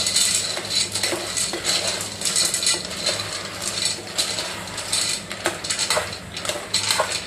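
A spoon clatters and scrapes in a pan while pasta is stirred together with fried onions, irregular close metallic knocks throughout.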